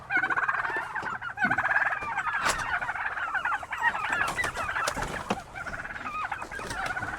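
Several turkeys gobble in a busy, overlapping chorus at moderate distance, rapid warbling calls repeating over seven seconds with occasional clucks from other fowl mixed in.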